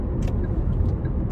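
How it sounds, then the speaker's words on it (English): Cars pass by outside in a brief steady rumble of road traffic with a couple of short hissing bursts, fairly loud and with no one talking. "these cars are acting crazy"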